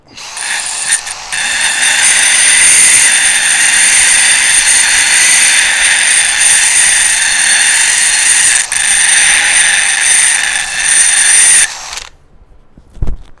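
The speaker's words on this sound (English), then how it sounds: "Get the drill out." A loud, close power drill whirs steadily at high pitch for about twelve seconds, then stops abruptly, leaving a brief quiet tail.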